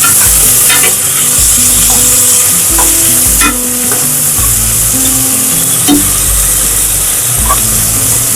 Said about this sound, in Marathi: टॅमॅटो पण आपल्याला चांगले मऊ होईपर्यंत जरा शिजून घ्यायचे